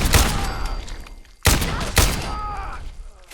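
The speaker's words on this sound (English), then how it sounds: "we made it single shot, that's right, because I was thinking of it more like a rifle" Rifle fire from a single-shot, sniper-style modded weapon in Fallout 4: three loud, sharp gunshots, each followed by a short ringing decay, spaced about half a second to a second apart.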